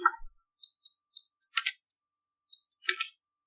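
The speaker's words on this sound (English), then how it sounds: "Sorry, Ollie, your keyboard's very loud." A computer keyboard clacks loudly during an online tabletop role-playing session, with about a dozen sharp, irregular keystrokes spread across a few seconds. A brief voice sound comes at the very start.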